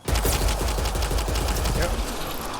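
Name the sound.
gunfire from a gun in the video game Mass Effect Andromeda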